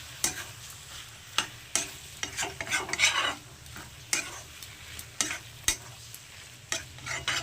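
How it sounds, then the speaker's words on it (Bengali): Chicken liver being stirred with spices and chopped coriander in a pan, a spoon scraping and knocking in irregular close strokes over a faint steady sizzle, with no talking. "এবার এগুলো খুব ভালো করে মিশিয়ে নেব।"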